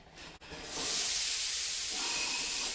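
Onions and garlic hitting a hot pot while deglazing, a brief pause and then a sudden loud, broad hissing sizzle that keeps going steadily, close and without talk.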